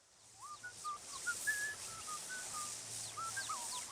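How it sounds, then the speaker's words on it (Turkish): A Sims character in The Sims 4 whistles a cheerful, wandering tune of short melodic phrases, fairly faint over a soft game background hiss. "Evi oldu diye nasıl keyfi yerine geldi ıslık çalıyor"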